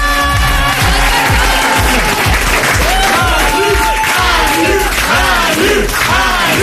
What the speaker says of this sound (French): Je propose un grand applaudissement pour terminer.